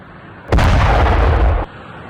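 A single loud blast from Iranian missile strikes hitting Israel's Negev region, a heavy booming burst lasting about a second with a sharp onset, then dropping back to quiet background noise.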